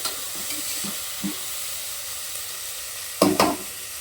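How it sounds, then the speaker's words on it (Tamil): A quiet, steady sizzle of onions sautéing in a pan, with a few soft stirring scrapes and a brief louder clatter near the end. "வெங்காயம் வதங்கட்டும்"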